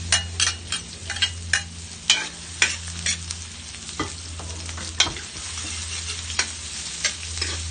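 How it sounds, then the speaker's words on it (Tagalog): Garlic and onion sauté in a hot pan for a pork batchoy, a steady close sizzle broken by repeated scraping stir strokes and utensil clinks, with no talking. "Pagsabay na yung dalawa, bawang at sibuyas."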